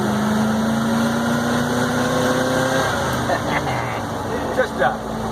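A truck's 350 engine idles with a steady low hum and faint vibration, fairly close and unchanging, with no talking.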